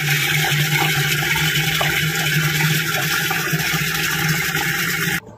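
Drinking water from a bore well gushes steadily into pots in a loud, continuous splashing rush that stops abruptly at the end.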